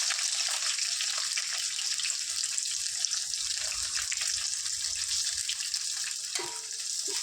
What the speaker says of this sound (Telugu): వీటిని చక్కగా లైట్ గోల్డెన్ బ్రౌన్ కలర్ వచ్చే వరకు ఫ్రై చేసుకుందాం